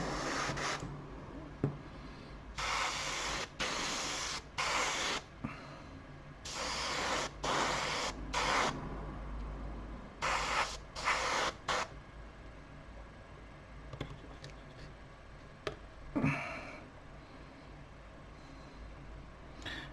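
Bursts of airy paint-spray hiss come in short and longer blasts with brief pauses, fairly close, with faint clicks in between and no talking.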